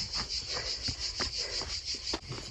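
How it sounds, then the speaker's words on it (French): Cicadas buzz in a steady, pulsing high drone along the Restonica trail, moderately close, with light footsteps and faint rustling underneath. "Les cigales se régalent."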